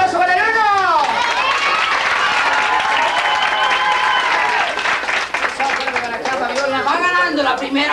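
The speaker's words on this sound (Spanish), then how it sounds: "¡Aplauso para la dos!" A crowd at a San Calixto festival contest breaks into loud, sustained applause and cheering, with whistles and shouts mixed in over steady clapping throughout.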